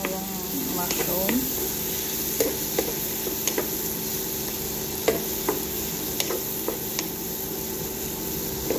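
Shrimp and mushrooms stirred in a frying pan, with a steady sizzle under repeated spoon scrapes and clicks against the pan, close by, as a voice talks over the cooking.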